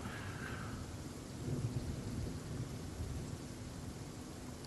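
Thunder rumbles low and faint beneath steady rain during a storm in the train simulator game Train Sim World 3, on the Kassel to Würzburg route, with a continuous hiss of rainfall and no voices.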